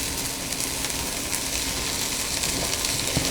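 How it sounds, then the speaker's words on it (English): Corned beef and onions fry in a pan with a steady, close, hissing sizzle that holds at an even level throughout, with no talking. "Okay, I've got my onions cooking in my pan."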